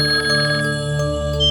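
A telephone rings with a steady, insistent electronic bell tone, loud and close, sounding alone without any talk.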